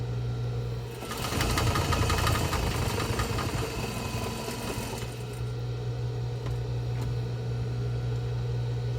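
A sewing machine back stitches to the edge of a box-style fabric face mask, a fast whirring burst over a steady low electrical hum that continues after the stitching stops.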